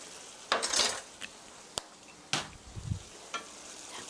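A spoon stirs mapo tofu sauce in a pan, giving soft scraping and clinking strokes in irregular bursts, quiet and close, with no talking.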